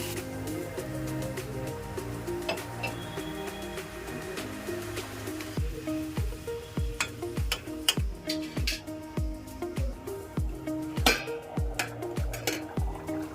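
Potatoes and peas sautéed in a pan for ghugni. Music plays throughout, and halfway in a steady run of sharp spatula scrapes and knocks against the pan sets in, close and rhythmic.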